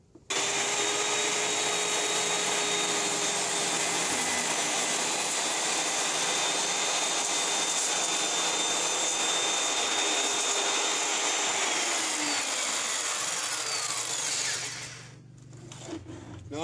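A power saw on a homemade table saw plunges into wood to cut a slot, a loud continuous whine held steady for about fourteen seconds before winding down near the end, with no talking.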